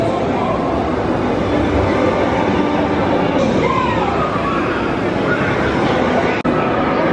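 A TRON Lightcycle Run ride train rushing through its tunnel at a theme park, a steady loud roar of rail rumble sustained throughout amid crowd noise, with a brief dropout near the end.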